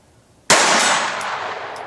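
A Ruger SR22 pistol loaded with CCI Hypervelocity ammunition fires a single shot, a sudden loud, close crack followed by a long ringing decay.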